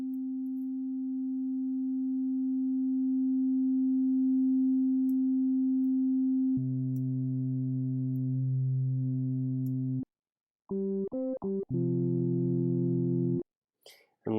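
In Ableton Live, a synth oscillator runs through a self-oscillating filter. It opens as a steady pure sine-like tone, shifts to a lower buzzier pitch, then breaks into short stuttering bursts of chirpy tones, alone and moderately loud.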